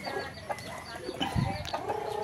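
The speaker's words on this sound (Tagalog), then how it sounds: "Ang atuang vlog karon is magpakaon ta sa atuang manok." Chickens cluck close by while eating soaked corn bran, with several short, scattered clucks and soft calls plus a brief low bump.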